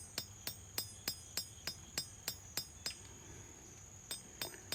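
Hand forging a small steel knife blade: a hammer strikes the anvil in a steady rhythm, about fifteen ringing metallic blows, bright and close, slowing slightly toward the end.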